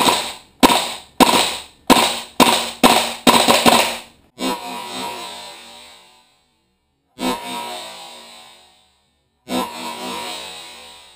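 An airsoft G39C gas blowback rifle with open bolt fires repeated sharp, loud cracks, several quick separate shots then a few spaced bursts with ringing decay between, close and without talk.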